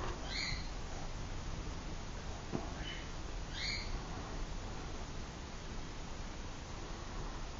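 A pet bird gives a few short, sharp squawks indoors, with two brief calls near the start and another pair a few seconds later, faint against a steady background hiss.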